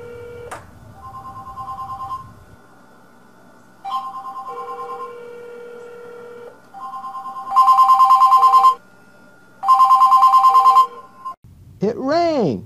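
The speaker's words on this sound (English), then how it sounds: "cell phones ring when placed in most microwave ovens" A cell phone shut inside a closed microwave oven rings out clearly, its electronic ringtone starting with short tones and growing into louder repeated bursts, close and prominent, ending with a warbling sweep.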